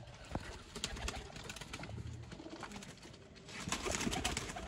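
Rampuri pigeons coo softly amid a busy outdoor loft, with low murmuring calls, rustling and scattered clicks throughout and a brief flutter of activity near the end.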